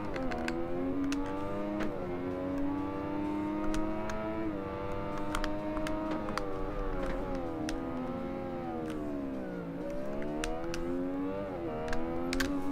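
Motorcycle engine in the racing video game Ride 2, a continuous high revving whine rising and falling through gear changes over a race, steady and loud with sharp clicks scattered over it.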